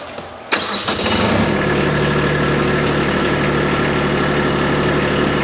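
Tractor engine catches and starts with a sharp burst, then settles into a steady, loud running drone while driving into a B01 LA435 front loader, with no talk over it.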